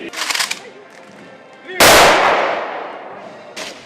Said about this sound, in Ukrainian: На честь дня незалежності пролунав святковий військовий салют.